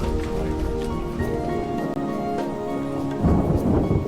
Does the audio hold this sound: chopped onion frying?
no